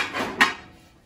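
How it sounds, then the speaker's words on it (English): A pan for cooking bacon is pulled out with a single short metallic clank against other cookware, close and fairly quiet, with faint rustling before it. "Next, get out the pan you want to use."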